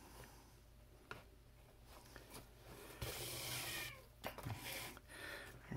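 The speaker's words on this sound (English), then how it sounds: "the cat's here saying hi" A cat meows a few times at low volume, faint and close amid soft rustling and handling noise while someone works on re-lacing the center web of a CCM glove.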